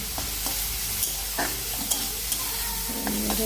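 Frying prawns are flipped over in hot oil in a wok, with several sharp scraping turns and light clinks over a constant close sizzle, no voices.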